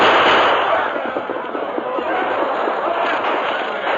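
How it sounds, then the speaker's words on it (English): Dense, continuous volley of gunfire crackles in a radio drama battle scene, a rapid barrage of pops and bursts held loud and steady, with voices shouting faintly beneath the roar. "Open fire!"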